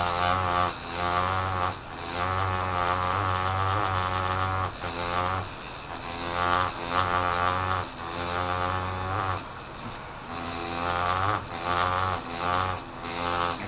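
A tattoo machine used for engraving buzzes continuously at close range, a loud, steady electric drone with a few brief dips and stutters as the needle works.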